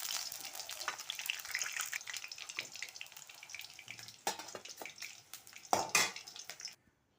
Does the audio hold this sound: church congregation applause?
no